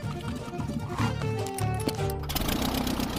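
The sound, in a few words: small plane engine sounding like lawnmower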